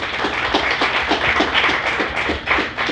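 A studio audience at a talk show discussion claps in dense, even applause that holds steady and fairly loud throughout, with no talking over it.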